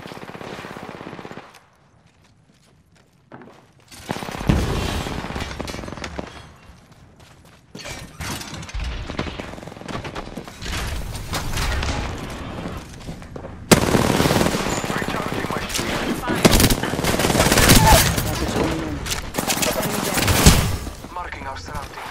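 Gunfire in the video game Apex Legends Arenas, with loud sustained automatic bursts and overlapping shots that swell after a short lull and grow denser toward the end, heard under occasional player talk.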